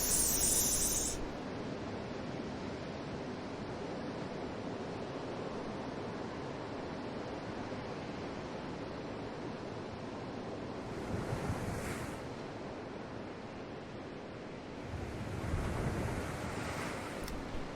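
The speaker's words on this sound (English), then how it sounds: "Just listen to the roaring waves instead." Roaring ocean waves in the video game PowerWash Simulator, a steady broadband surf wash that holds throughout, with brief louder swells near the middle and end.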